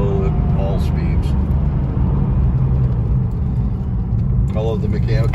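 A 1997 Porsche 993 C4S runs down a straightaway with a steady, loud engine rumble and road noise throughout, and a person talks over it at the start and end.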